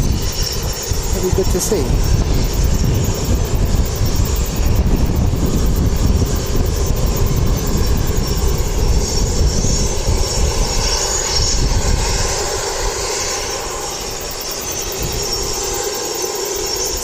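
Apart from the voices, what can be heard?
Airbus A320 jet engines at airport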